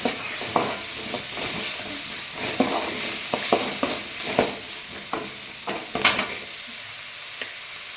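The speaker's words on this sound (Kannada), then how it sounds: "ಎಣ್ಣೆಯಲ್ಲಿ ಈರುಳ್ಳಿನ ಫ್ರೈ ಮಾಡೋಣ" Onions frying in hot oil for a shrimp curry, a steady sizzle broken by sharp scraping stirs of a spoon against the pan at irregular intervals, close and fairly loud.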